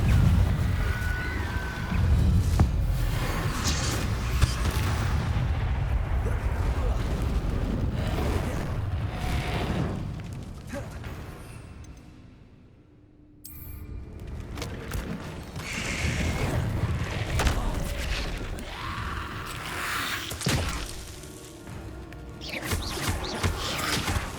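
Fire spell explosions from Hogwarts Legacy boom and roar in a dense, rumbling wash of blasts and game effects, briefly dropping away midway before the loud bursts resume.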